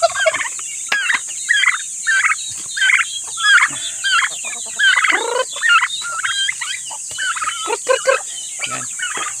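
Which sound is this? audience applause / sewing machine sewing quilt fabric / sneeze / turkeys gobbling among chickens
turkeys gobbling among chickens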